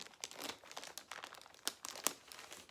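Packaging around a custom golf head cover being cut open, a series of close, quiet crinkles and rustles with a few sharper crackles, no talk.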